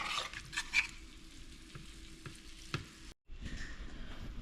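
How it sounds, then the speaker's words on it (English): Stir-fry vegetables cooking in a pot with a faint, steady bubbling hiss, a few light clinks of utensils at the start, and a brief dropout before the quiet sizzle resumes. "we're just gonna allow this to simmer"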